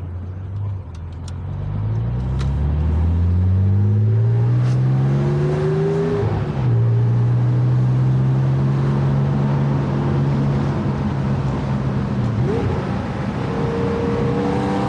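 Porsche 911 Safari rally car heard from inside as the engine pulls through gears, rising and dropping pitch sweeps under a constant loud road and gravel roar for the whole stretch.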